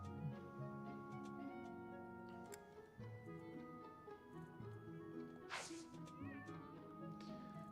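A cartoonish cat meow from Fire Emblem Three Houses rises once in the middle, over a steady bed of in-game background music.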